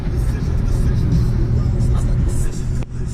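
Car interior while driving a Mitsubishi 3000GT VR4, a steady low engine rumble and road drone throughout, close and fairly loud, with a brief dip near the end as the car slows.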